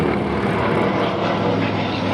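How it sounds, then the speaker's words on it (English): Grumman Avenger propeller aircraft at the 2015 Duxford Flying Legends air show, flying with its torpedo bay open; a loud, steady engine drone with a rough low rumble holds for the whole two seconds. "Avenger with the torpedo bay opened"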